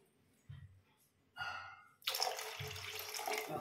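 Water poured into a pressure cooker for gongura dal: a couple of soft knocks, then a sudden steady, splashy gush that runs close and fairly loud until the end, with no speech.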